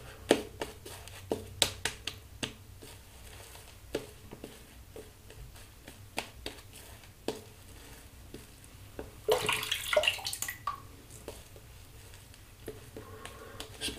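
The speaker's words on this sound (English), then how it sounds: "I'm gonna add a bit more water" Scattered taps and clicks with a short burst of running water splashing in the middle as water is added to shaving soap, close and fairly quiet overall.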